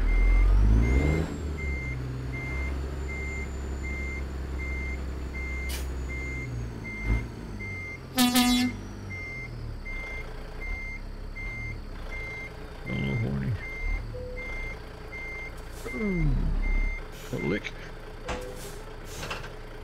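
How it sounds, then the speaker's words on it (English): Garbage truck in American Truck Simulator backing up with steady repeated reversing beeps over engine rumble, an air-brake hiss and door-like clunks, while someone talks over it. "drive the garbage truck over there"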